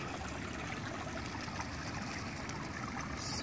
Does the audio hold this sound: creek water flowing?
yes